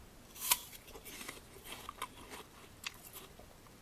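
A crisp Mungyeong apple is bitten with a sharp crunch and then chewed close up, giving a run of wet crackling crunches.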